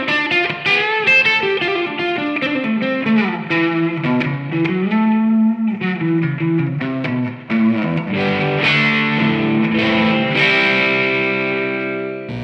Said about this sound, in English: Just using a Holy Grail reverb, running straight back into the effects loop.